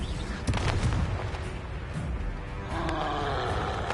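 Spell blast in a Harry Potter video game on PS4: several heavy booming explosive bursts with roaring rumble, loud and dense across the whole span, a fresh burst near the start and another surge near the end.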